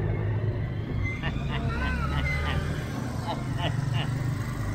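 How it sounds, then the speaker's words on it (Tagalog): A tricycle engine runs steadily with a continuous low rumble while riding on Guimaras Island, with passengers talking and calling out over the motor noise. "Galing ng aming tricycle sa likuran."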